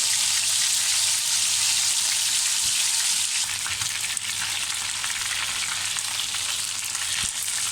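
Pieces of green chicken tikka frying in hot oil give off a steady, close sizzle that carries on unbroken from start to finish with no talking.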